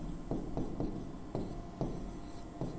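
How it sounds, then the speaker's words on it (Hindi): Chalk or marker writing on a classroom board, a run of rhythmic scraping strokes in quick bursts, close and clear with no talking. "तो हम यहाँ पे लिखेंगे अल्पांश"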